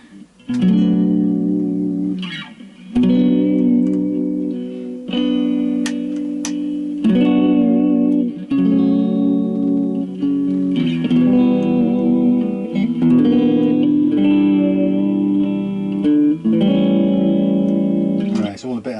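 An electric guitar, a Squier Vintage Modified Jaguar, plays chords and short phrases with a lingering reverb tail, strummed in bursts separated by brief gaps, loud and close.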